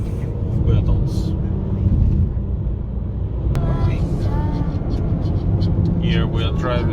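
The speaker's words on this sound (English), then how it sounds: "Here we are driving already." A car drives along a road past former tank battle sites on the way back to Kyiv. Its steady engine and road rumble run loud and continuous throughout, and voices talk over it.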